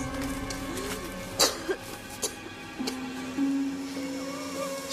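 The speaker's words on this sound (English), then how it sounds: "She's gonna give us away with all that coughing" A woman coughs a few times in short, separate bursts against a steady humming background, with no talking, each cough sharp and close.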